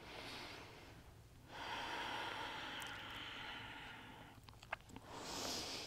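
Slow, deep breaths during a low-flow yoga session, each long airy inhale and exhale swelling and fading, close and fairly soft, with a brief sharp click near the end.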